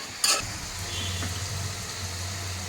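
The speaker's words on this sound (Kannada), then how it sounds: "ಇದೊಂದು ಸ್ವಲ್ಪ ಫ್ರೈ ಆಗಲಿ." Vangi bath ingredients frying in a pan, a soft steady sizzle with a sharp scrape of stirring near the start, then a low continuous hum underneath, close and moderately quiet.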